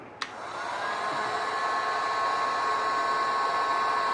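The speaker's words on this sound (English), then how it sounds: "just hit them with my heat gun and I can get rid of them" A heat gun blows a steady, loud hot-air roar across gel and soy wax poured as candles, held over bubbles on the surface, with a short click at the start and no talk over it.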